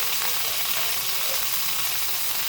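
Steady, loud sizzling of a butter steak searing in a pan on a stovetop, a continuous bright hiss and crackle with no pauses, close up.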